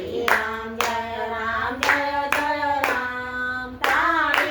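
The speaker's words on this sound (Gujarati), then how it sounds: "રામ તાળી પાડો રાધે શ્યામ" Rhythmic hand clapping keeps steady time under loud devotional singing in a Ram Navami bhajan, with about six sharp claps at roughly even intervals.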